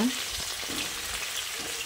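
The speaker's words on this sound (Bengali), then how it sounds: "ডাঁটা ও বেগুনগুলো দিয়ে আলুর সঙ্গে ভালো করে মিশিয়ে নিতে হবে" Moringa drumsticks and eggplant fry with potatoes in a vegetarian Bengali curry, giving a brief, even, close sizzle with a faint stirring scrape.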